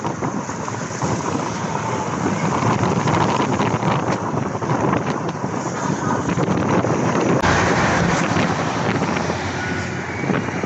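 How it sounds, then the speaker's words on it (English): Gusty wind blasts through a Moscow storm of wet snow and rain, a loud continuous roar that buffets the microphone and surges in waves for about ten seconds, with no one speaking. "Wet snow, rain, gusty wind."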